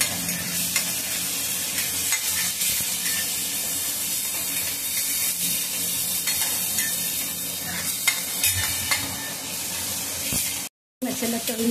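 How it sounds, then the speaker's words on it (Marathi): Masala sizzles steadily in a hot pan for a home-style gavar bhaji curry, with continuous close frying crackle and occasional stirring scrapes throughout. "मसाला तळून घेतले"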